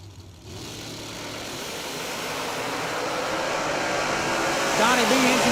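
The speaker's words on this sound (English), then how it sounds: "Pulled the motor out of the pulling tractor and put it in the dragster" A 454 engine taken from a pulling tractor powers a dragster at a bracket race, a rising mechanical roar that builds steadily from near quiet and peaks sharply at the end, with faint background voices.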